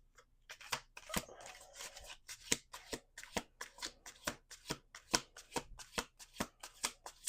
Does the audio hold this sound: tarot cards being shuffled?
yes